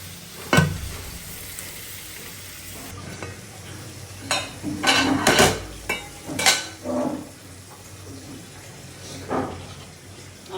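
Tomato frying in a pan with spring onion greens added for a dried-fish and eggplant dish, a soft sizzle under clustered scraping stirs in the middle, then a few quieter strokes.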